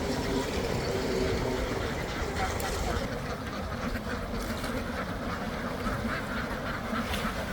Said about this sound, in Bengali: দেখেন পাশে সুন্দর একটা হাঁসের খামার, হাওরের হাঁসের খামারগুলো কি সুন্দর।